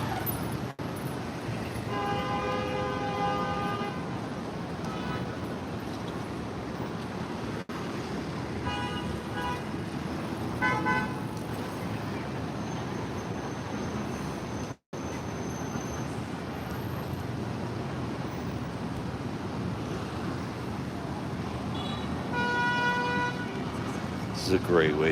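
Busy Manhattan street traffic on 44th Street, with repeated car horn toots and honks sounding in short bursts over a steady roadway rumble, loudest near the start and end, while someone talks throughout.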